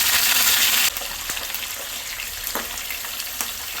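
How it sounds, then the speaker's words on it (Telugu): Cashews, green chilies and curry leaves fry in hot oil for tamarind pulihora, a loud close sizzle at first that drops to a softer steady frying hiss with occasional light stirring clicks. "ఇవన్నీ చక్కగా ఫ్రై చేసుకోవాలి."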